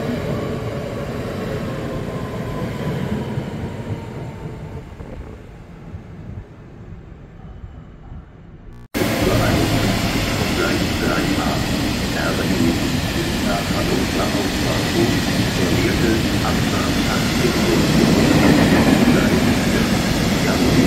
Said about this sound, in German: Das ist die RE50 nach Wolfsburg.